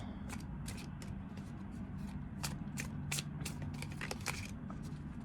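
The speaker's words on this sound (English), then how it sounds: "give these another quick shuffle" Tarot cards are shuffled in quick, crisp bursts of riffling and snapping, close by, over a low steady background hum.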